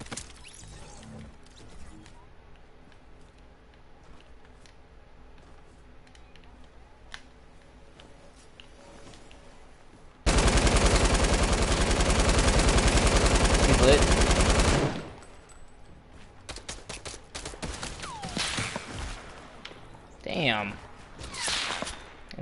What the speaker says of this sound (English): Who the fuck is he shooting at?